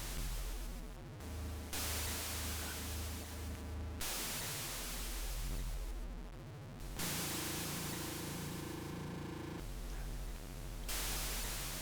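Bally Astrocade planes game sound effects with reverb, harsh static-like bursts and low buzzing tones switching on and off in blocks, loud and electronic with no voices.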